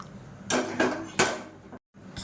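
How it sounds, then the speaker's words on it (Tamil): A ladle scrapes and knocks against a metal pot while sambar is stirred, giving three or four clear clattering strokes at an uneven pace, close and fairly loud, with a short silent gap near the end. "இதை நல்லா கலந்து விட்டுக்கலாம்."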